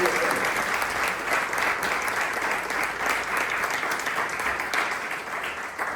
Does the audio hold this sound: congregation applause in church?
yes